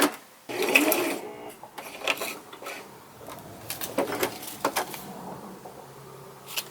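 A sewing machine stitches a paper heart strip embellishment in short, uneven bursts of rapid mechanical whirring and clicking, with brief pauses between runs.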